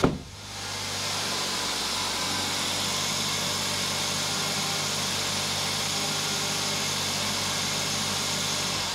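A 2016 Hyundai i20 1.2 petrol engine idling just after an oil and filter change, starting with a brief catch and then settling into a steady, even hum with a low drone, close and continuous with no talk.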